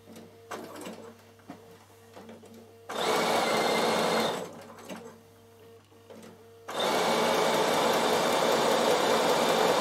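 A Bernina sewing machine stitches in two loud, fast bursts while couching onto wool felt, with quieter pauses of handling and a low motor hum between runs.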